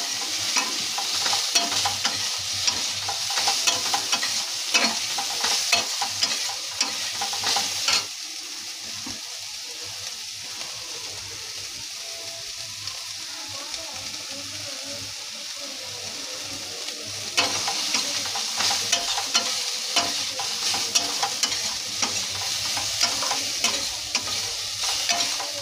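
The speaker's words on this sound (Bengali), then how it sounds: "ওই তেলেই সোয়াবিনটা ভেজে নিচ্ছি" Soybean chunks frying in a little leftover oil in a wok, a continuous crackling sizzle with a spatula scraping and stirring, louder at the start and end and quieter in the middle.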